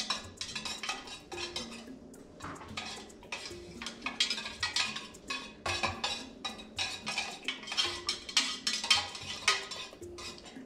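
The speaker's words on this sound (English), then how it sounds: "I'm gonna stir this in really, really well." A utensil stirs pina colada fragrance oil into melted soy wax in a pot, with a steady run of scraping, clinking strokes against the metal, close and fairly quiet, with no talk.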